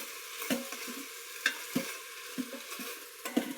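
Beef and mushroom with soy and oyster sauce are stirred in a hot pan, a faint sizzle under it and sharp spatula scrapes landing every second or so, close by and without speech.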